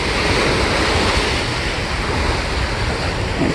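Ocean surf rolls in continuously at Ocean View Beach in Norfolk, Virginia, a loud, broad wash of breaking waves mixed with wind buffeting the microphone, with no voices.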